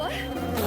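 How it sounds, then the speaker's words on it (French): Bees hum in a kitchen with a close, steady, loud drone that hangs on without a pause for under a second, and no voices are heard over it. "Oh non, ce sont juste des abeilles."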